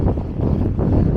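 Wind gusts buffet a drone's microphone outdoors by trees, a steady loud rumbling roar with low-end buffeting throughout, no voices.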